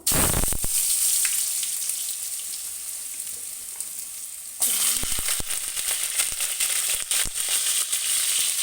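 Hot oil sizzling steadily after potatoes are added along with whole cumin and dried red chilies, a loud, close hiss that surges fuller midway with a few crackles and stirring scrapes.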